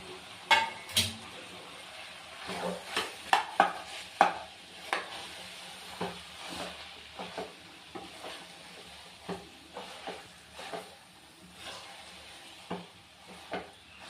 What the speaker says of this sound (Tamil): இப்போ இது நல்லா கலந்து விட்டுக்கலாம் நம்ம